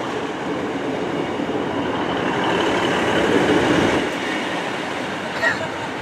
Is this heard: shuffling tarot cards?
no